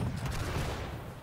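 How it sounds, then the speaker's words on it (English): Dense, continuous booming and rumbling of cannon fire in Holdfast, loud and close, with overlapping blasts and no clear gaps. "I can't hear you because of the sound of the cannons."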